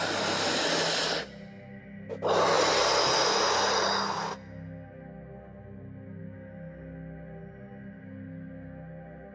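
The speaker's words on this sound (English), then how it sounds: "take a deep breath in and let it go" During a guided meditation, a deep breath is drawn in and then slowly released, both close and clearly audible. A short inhale is followed after a pause by a longer exhale, over a soft, steady music drone.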